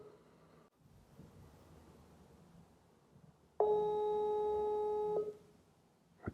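A telephone call tone sounds while waiting for voicemail to pick up: after faint background hiss, a single steady electronic tone plays for about a second and a half, then cuts off.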